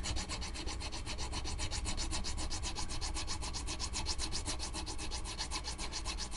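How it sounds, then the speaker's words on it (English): Guitar nut slots are filed down with quick, regular back-and-forth rasping strokes, a close, bright scraping rhythm repeating steadily for several seconds with no talking. "You scoot it over and now you're gonna grind down into it."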